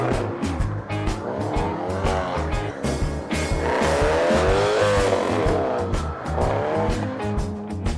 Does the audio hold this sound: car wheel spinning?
yes